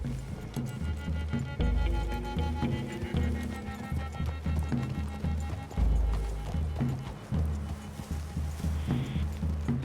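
Horses trot along in the video game Red Dead Redemption II, rhythmic clip-clop hoofbeats close by and moderately loud, continuing steadily with game ambience underneath.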